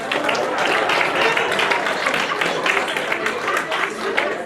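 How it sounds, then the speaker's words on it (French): A church congregation applauds Pastor Rito at a surprise honor service, a loud, dense, continuous wash of clapping with crowd murmur mixed in. "Est-ce qu'on peut applaudir Pasteur Rito?"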